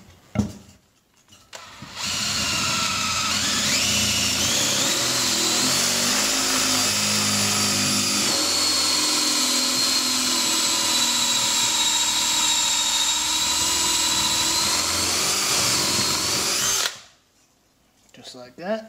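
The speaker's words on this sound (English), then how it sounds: "Okay, now we'll go ahead and swage this out" Copper refrigerant tubing for an evaporator coil is swaged with a power tool. A loud, close, sustained whine holds steady for about fifteen seconds after a brief start, then cuts off abruptly.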